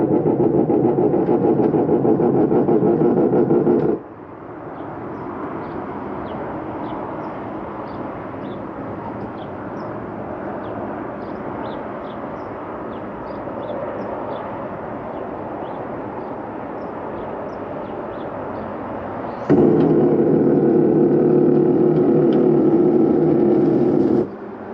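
The electric awning on a 2016 Open Range Light 318RLS RV runs out with a steady motor drone lasting about fifteen seconds. A louder hum sits on either side of it, and the whole sound stays fairly close and even.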